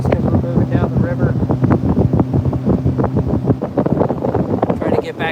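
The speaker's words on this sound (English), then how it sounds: "it's a little windy right now" Wind buffets the microphone on a boat moving down a river, a steady loud rumble running under near continuous talking throughout.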